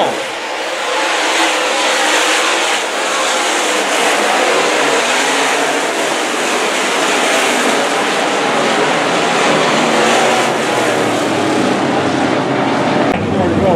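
Dirt track race cars roar together at 81 Speedway in a USMTS event, a loud continuous engine drone with rising and falling revs as several cars pass close, lasting the whole stretch.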